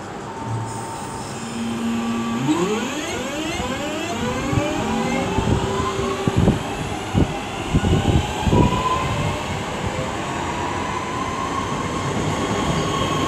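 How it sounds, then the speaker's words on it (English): A West Midlands Railway class 323 electric passenger train pulls away from Aston station, with rising whining motor tones sweeping upward, wheel clunks over rail joints, and a steady rumble as it accelerates. "323205 is now just about ready to lead away the 1323 West Midlands Railway service to Four Oaks"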